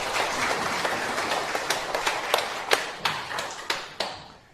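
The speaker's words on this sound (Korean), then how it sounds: "박수 한번 치세요." Scattered hand claps from an audience at a Korean talk on fate and fortune, quiet and uneven, building into a string of sharper individual claps over a few seconds.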